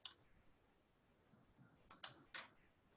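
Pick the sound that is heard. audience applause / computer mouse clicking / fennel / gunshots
computer mouse clicking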